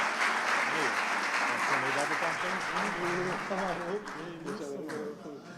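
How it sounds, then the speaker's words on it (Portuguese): Congregation applauding during a church celebration service, a dense, sustained wash of clapping that stays loud and gradually thins, with voices mixed in beneath it. "Você pode aplaudir o nosso Deus e pela vida dos meus irmãos?"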